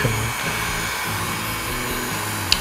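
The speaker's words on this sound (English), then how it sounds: "I'm using a heat gun here, but it's set at its lowest setting." A steady, loud blowing whir of a handheld heat gun on its lowest setting runs throughout, a constant motor drone with a small click near the end.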